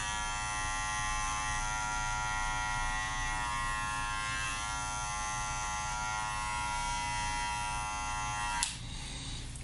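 Electric hair clippers buzz continuously at close range during a taper haircut, a steady even drone that runs for nearly ten seconds before a brief click and a shift in tone near the end.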